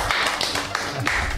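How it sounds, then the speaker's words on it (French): A studio crowd claps for a guest on a French game show, a brief burst of dense, steady applause close by with no speech over it. "On applaudit Sébastien."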